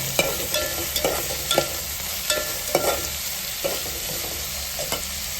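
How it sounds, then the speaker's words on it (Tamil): Onion, green chilli and curry leaves stirred in a frying pan, a steady sizzle with a spoon scraping the pan every second or so, close up and with no talking. "இப்போ வெங்காயம், பச்சை மிளகாய், கருவேப்பிலை கிண்டி விட்டுக்கலாம்."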